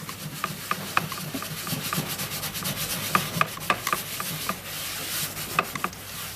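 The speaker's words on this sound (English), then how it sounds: "I'll just start giving it a rub down and just see if it comes off" Hot melt glue residue softened by EV60 cleaner is rubbed off a surface, giving close, rhythmic scrubbing strokes with small scraping clicks throughout.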